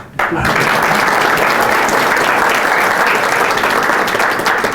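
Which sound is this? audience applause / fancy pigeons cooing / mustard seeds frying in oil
audience applause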